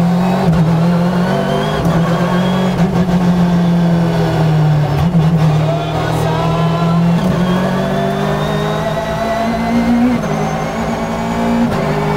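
Peugeot 306 Maxi rally car engine held around 4000 rpm, a loud, close, sustained drone whose pitch wavers and climbs slightly, with brief dips as the throttle shifts.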